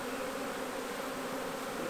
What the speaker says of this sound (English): I'm glad to see that these bees are looking very good